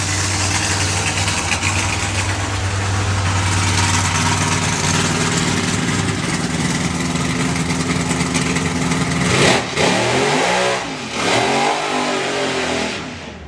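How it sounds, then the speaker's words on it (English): A drag racing car at the Euro Finals start line roars through a burnout, a loud sustained engine blare with heavy low rumble, then revs rising and falling before easing off. "We've certainly got the burnouts off Pat"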